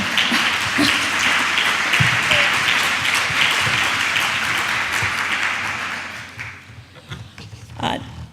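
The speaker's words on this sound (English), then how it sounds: "You can clap for Kiara, she deserves it." A conference audience applauds steadily for several seconds, a dense wash of clapping from many hands in a hall, tapering off and fading out near the end.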